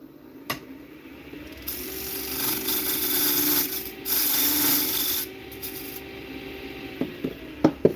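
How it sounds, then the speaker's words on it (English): An 80 grit abrasive sands a walnut bowl on a lathe, giving a steady close rasping hiss in long sustained passes, broken by short pauses and a few knocks near the end. "just do a quick like 80 grit sanding on it."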